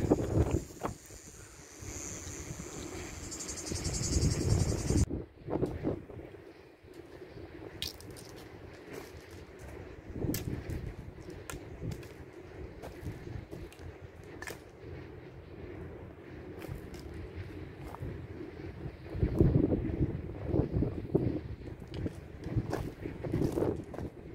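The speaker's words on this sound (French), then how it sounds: "ça n'arrête pas de souffler, il y a du vent" Strong wind batters a microphone on an outdoor walking trail. Rough, uneven gusts roar on and off throughout, with brief clicks and rustles in between.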